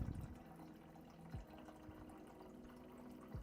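A water bottle is filled from an office water dispenser, a faint, close trickling and gurgling of water with a few soft knocks and clunks of the bottle against the dispenser.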